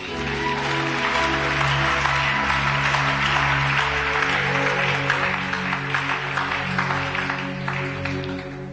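A church congregation at a prophetic Friday service claps and cheers for Jesus, a dense continuous wall of applause with a sustained music-like tonal bed underneath, loud and steady throughout.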